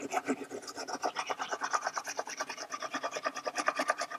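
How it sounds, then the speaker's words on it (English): Rhythmic back-and-forth rasping of 150 grit sandpaper on a maple block, sanding glow-in-the-dark fret marker dots flush on a guitar neck, close and fairly quiet with steady strokes. "sand this down flush, and I'm just going to use a block of maple with a piece of, I think that's probably 150 grit sandpaper on it"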